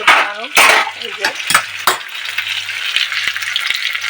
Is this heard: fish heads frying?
yes